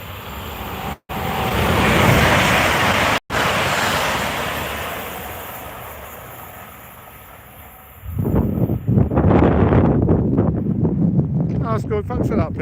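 A train on the West Coast Main Line rushes past close by as a loud, broad roar that rises quickly, holds and then fades away, with people talking over the end of the pass.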